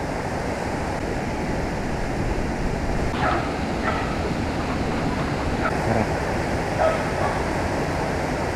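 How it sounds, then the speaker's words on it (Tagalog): A dog barks a few times in the distance over the constant roar of rushing water near Tanawan Falls in Dingalan, Aurora, the faint barks spaced a second or two apart. "Tapos yung tahol ng aso."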